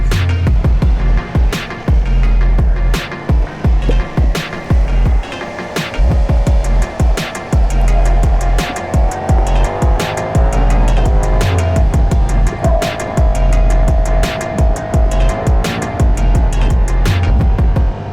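Ducati Panigale V4S sports motorcycle being ridden, its engine revving up and down loudly and close, with rapid gear shifts and rising and falling pitch throughout.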